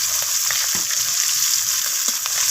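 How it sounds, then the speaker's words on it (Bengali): Chopped onions fry with bhetki fish heads and bay leaves in a pan, a loud steady sizzle close by, with a few soft stirring knocks. "সমস্ত কিছু আমি একটু ভাজা করে নেব। পেঁয়াজগুলো একটু ব্রাউন রং ধরা পর্যন্ত।"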